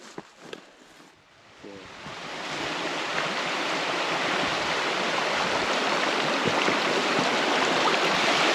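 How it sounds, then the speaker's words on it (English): A forest waterfall roars as a steady broadband rush that swells after a quiet start and then holds loud and continuous, with faint voices and handling noise at the beginning. "It's a nice waterfall."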